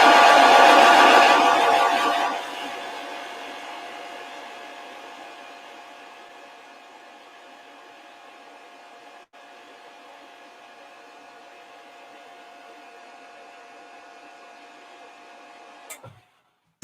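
Hair dryer drying paint on a painted miniature figure, a loud close whooshing blast for about two seconds that drops to a steady lower hum and then cuts off.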